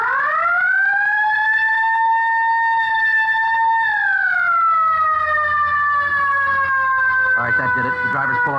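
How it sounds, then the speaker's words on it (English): A police car siren wails loudly and steadily at close range, sliding from a high held tone down to a lower one, with brief clatter near the end. "All right, hit the siren."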